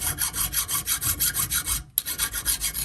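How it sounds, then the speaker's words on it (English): An old file rasping across a rusty froe blade during a restoration, with rhythmic back-and-forth strokes about five per second. The strokes are close and loud, pause briefly near the middle and then resume, with no talking. "Let's just take a file on it for the fun of it."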